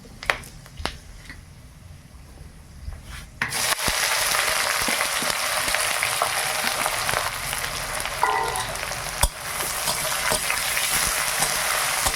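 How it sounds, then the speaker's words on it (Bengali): Whole spices (green cardamom, cloves, cinnamon and bay leaf) hit hot oil with a sudden loud sizzle that then holds as a steady crackling fry. Light taps sound early on and once more midway. "এবার ফোড়ন দিয়ে দিলাম, ছোট এলাচ, লং, দারুচিনি, তেজপাতা"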